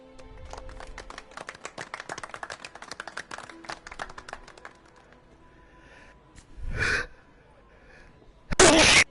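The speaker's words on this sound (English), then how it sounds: "Oh, excuse me. Phew, had a sneeze there." A single sharp sneeze from a character in a Spider-Man game cutscene, loud and close. It bursts out at the very end after a stretch of light tapping and clatter, with a brief breathy sound a little earlier.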